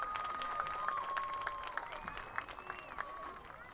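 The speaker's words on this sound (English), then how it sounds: "Let's have another round of applause for our Queen and King candidates and our entire court" Crowd applauding the homecoming king and queen candidates and court at a Lake City varsity football game against Pine River, a steady outdoor clapping wash with scattered louder claps and a faint whistle-like tone running through.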